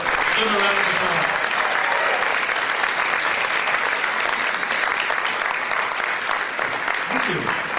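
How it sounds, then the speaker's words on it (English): An audience at a 1990s magic show gives sustained, even applause that stays loud and continuous for the whole stretch. "Give him a round of applause."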